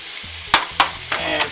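Food frying in a pan with a steady sizzle, broken by a few sharp scraping stirs of a utensil, close up with no talking.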